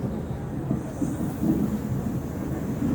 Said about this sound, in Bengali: ট্রেনটা কি সুন্দর করে আসছে।